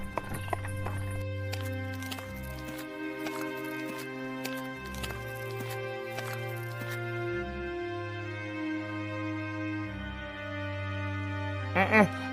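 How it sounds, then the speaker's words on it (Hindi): Horse hooves trotting in an animated Hindi story as a king and his minister ride toward dark hills, a regular clip-clop rhythm over a sustained musical background, with a voice narrating. "घोड़े पर सवार होकर काली पहाड़ियों की तरफ जाने लगता है।"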